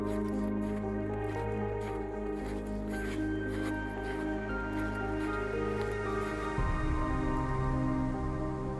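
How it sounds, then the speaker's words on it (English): Footsteps squelching through old, wet, melting snow on a mountain trail in the Sierra de Gredos, a steady run of soft wet crunches close by, with an outdoor hum underneath and no talking. "I'm walking on old, wet, melting snow."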